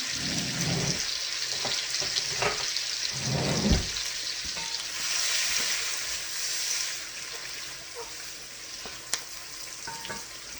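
Onions sizzle steadily in a pan with a little tomato juice, a loud, continuous crackling hiss with scattered pops and a brief stir near the start, and no voices.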